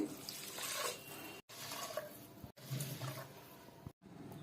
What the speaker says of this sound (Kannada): 1 ಗ್ಲಾಸ್ ಅಕ್ಕಿ ಅರ್ಧ ಗ್ಲಾಸ್ ಬೇಳೆಕಾಳಿಗೆ 3 ಗ್ಲಾಸ್ ನೀರು ಹಾಕ್ಕೊಳ್ತಿದ್ದೀನಿ